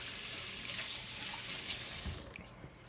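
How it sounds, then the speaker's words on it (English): Hands being rinsed under a running kitchen tap, a steady, close rush of water that breaks into splashing and then cuts off near the end, quiet and without talk. "I'm just going to rinse my hands here."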